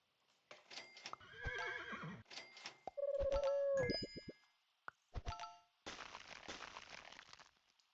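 Cartoonish horse neigh from the Super Auto Pets video game, a short whinny amid clicky plops, dings and chimes of game sound effects, clear and close with no talking.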